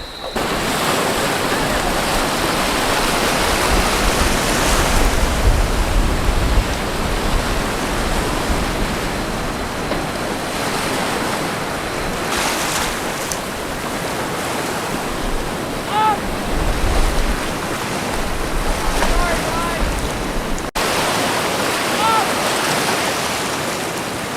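Ocean surf rolls and breaks steadily on the beach at Agnes Water, a continuous close wash of waves with swells rising and falling, with some wind and faint voices in the background.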